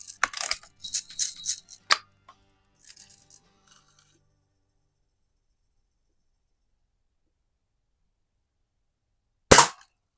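Crosman Hunter Hank BB gun in use, a cluster of quick clicks and rattles early, then silence broken by one sharp, loud, close snap near the end.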